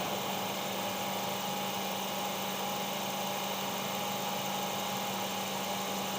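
A hydraulic motor on a training bench runs flat out at top RPM, regulated by a flow control valve, producing a constant droning hum with a faint high whine, unchanging and uninterrupted, with no one talking.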